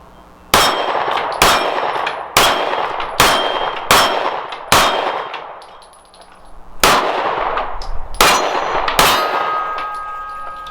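Kimber CDS9 pistol fired at steel targets, each shot a sharp crack followed by a ringing metallic clang; nine quick impacts in an uneven rhythm with a brief lull midway, loud and close, no talk.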